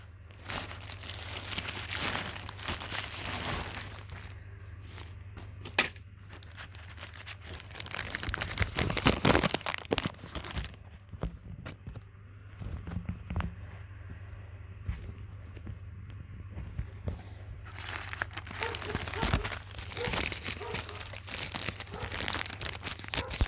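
Plastic packaging of small seed packets being opened and torn, giving close crinkling, crumpling and tearing noises in bursts with quieter pauses between.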